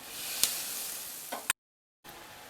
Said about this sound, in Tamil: இப்போ உளுத்தம்பருப்பு போட்டுக்கலாம். சிறிதளவு பெருங்காயத்தூள் போட்டுக்கலாம்.